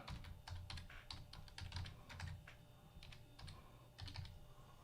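A password typed on a computer keyboard: a quick, soft, uneven patter of key clicks under a low background hum, fairly quiet and close.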